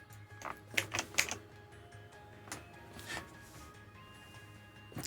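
Scattered clicks of keys typed on a computer keyboard, a few quick bursts of taps followed by sparser single presses, fairly close and quiet.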